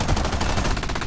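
Aircraft machine guns fire in War Thunder, a rapid, loud, continuous rattle of shots over a deep rumbling background.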